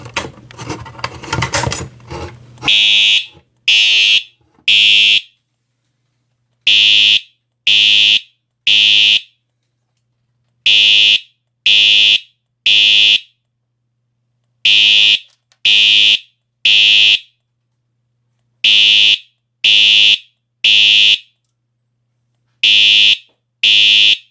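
A loud fire alarm sounds in repeating groups of three shrill beeps separated by short pauses, after a brief burst of clattering noise.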